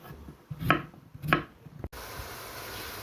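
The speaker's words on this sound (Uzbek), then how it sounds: "Shu tarzda to'g'rab olamiz kartoshkalarimizni." Potatoes for a plov cut with a knife: two crisp, close chops a moment apart, then an abrupt cut to a steady hiss.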